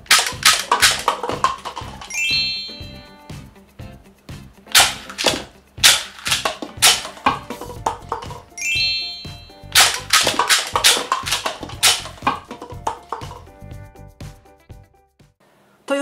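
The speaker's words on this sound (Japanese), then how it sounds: "3発の弾であの3つの紙コップを撃ち落とします。" Strike Shot Dragon rubber band gun firing in rapid succession at three paper cups, sharp snapping shots in two quick bursts with clattering hits between, close and loud with no talking.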